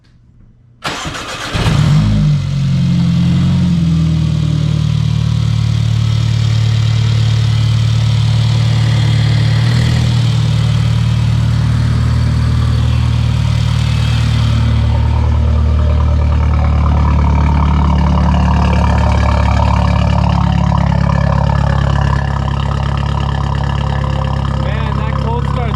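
A Stage 2 Mercedes CLA fitted with an Arma Speed carbon fiber intake cranks and fires loudly, then settles into a steady, close, rumbling idle with a strong intake tone that holds for the rest of the stretch.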